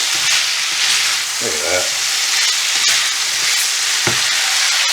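Meat for Bicol Express frying in a small pan gives a loud, steady close-up sizzle throughout, with someone briefly speaking partway through.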